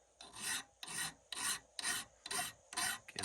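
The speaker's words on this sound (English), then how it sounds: "Now next is some draw filing." A metal file draw-files a vintage screwdriver in six even rasping strokes, close and loud, each a scraping push with brief pauses between and no voices.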